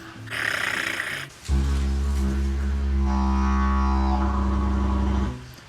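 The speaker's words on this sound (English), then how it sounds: "we can also roll our R's like this" A PVC didgeridoo drones low and loud, with a rattling flutter from rolled R's over the deep tone, preceded by a brief breathy buzz.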